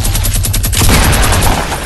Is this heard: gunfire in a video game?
yes